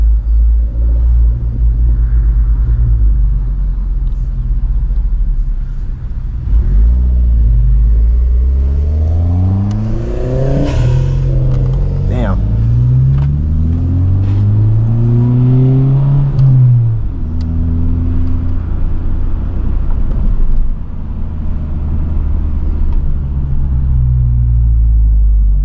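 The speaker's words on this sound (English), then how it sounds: "We're gonna get some sick ass turbo spool and turbo noises from him." A turbocharged car on a canyon run climbs through its revs with rising engine tones and turbo whine, shifting and building again in a loud, continuous rumble heard from inside the car.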